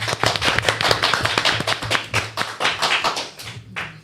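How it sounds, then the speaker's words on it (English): Sustained audience applause at a Marcus Garvey heritage celebration in Atlanta, with dense, fast, crisp clapping from a crowd lasting the full stretch and tapering slightly near the end. "Let's give her a big round of applause."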